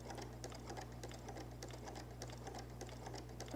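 A sewing machine stitches a quilted placemat with a quiet, fast, steady mechanical patter over a low hum.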